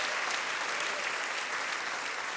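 A church congregation claps together in agreement, a steady, dense burst of applause that fills the room for a couple of seconds with no voices over it.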